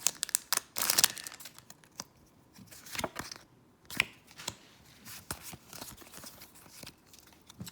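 Pokémon Shining Fates booster packs being torn open produce crisp, close foil crinkling and ripping in short irregular bursts with quiet gaps between, no voices.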